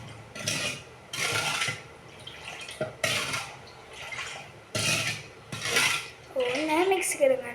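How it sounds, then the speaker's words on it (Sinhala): Spoon scraping and clinking around a metal pot while sugar and water are stirred together, in repeated bursts of rubbing strokes with brief pauses, close and moderately loud, with a short watery swirl near the end. "මම ටිකක් මික්ස් කරගන්නවා."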